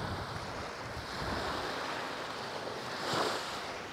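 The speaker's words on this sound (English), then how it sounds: "I love to hear the ocean waves going back and forth." Ocean waves wash in a continuous broad roar, swelling and easing, with a louder surge near the end and wind blowing across the microphone, at Palm Beach, Aruba.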